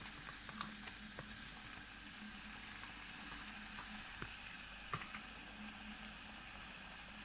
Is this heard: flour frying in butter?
yes